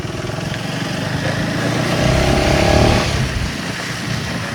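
A 390cc motorcycle engine drones steadily while riding, swelling louder for a second or two as it pulls harder, then easing back down; no one talks.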